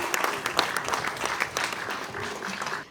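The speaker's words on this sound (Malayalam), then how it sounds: "കുറച്ചും കൂടെ സ്ട്രോങ് ആയിട്ടൊന്ന് കൈയടിക്കൂ പ്ലീസ്." Audience clapping at a Malayalam film audio launch event, a sustained wash of applause from a large crowd that continues steadily for the whole clip.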